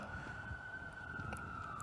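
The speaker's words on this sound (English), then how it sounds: "it's the sirens outside for me" A siren wails faintly in the distance, a steady high tone held under a low background hum.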